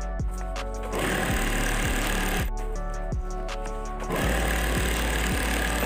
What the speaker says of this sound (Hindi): इधर एक पैर का सिलाई दे दीजिएगा।